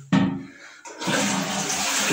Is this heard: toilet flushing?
yes